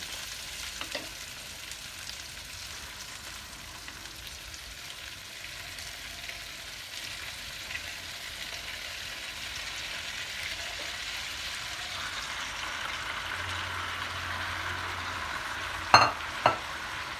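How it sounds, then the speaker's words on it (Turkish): Zucchini softened in a little oil frying in a pan as raw tomatoes go in, giving a steady soft sizzle and crackle throughout, with a couple of sharp clinks near the end. "Şimdi domatesi ekliyorum."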